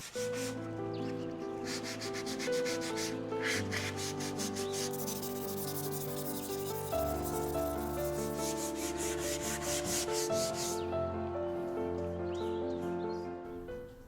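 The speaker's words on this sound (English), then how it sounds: "I'll sand everything by hand with a fine sanding pad." Steady rhythmic rubbing of hand sanding a wooden dresser with a fine sanding pad, close up, with back-and-forth strokes repeating throughout and soft music playing underneath.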